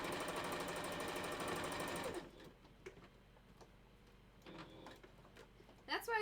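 A sewing machine stitches rapidly and steadily for about two seconds, then stops, leaving quiet room sounds and a few faint clicks.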